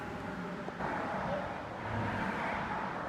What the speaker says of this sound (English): Hear those cars?